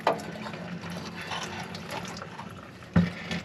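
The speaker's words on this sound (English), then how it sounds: "we're just going to drain this out" Fuel drains from the filter of a 1996-1998 Chevrolet C1500 pickup in a steady close trickle and splatter, with a brief louder knock near the end.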